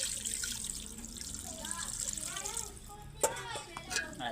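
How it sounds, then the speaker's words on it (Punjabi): Water pours into a cooking pot of browned meat for a curry with gravy, a steady splashing stream heard beneath a person talking throughout. "ਹੁਣ ਨਾ ਵੀ ਥੋੜਾ ਜਿੰਨਾ ਲਾ ਦਿੰਦੇ ਆ ਪਾਣੀ"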